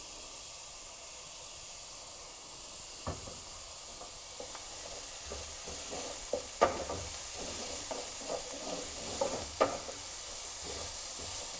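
Soft, steady sizzling of onion and garlic frying in a pan, with occasional light taps and stirring scrapes, fairly quiet and continuous.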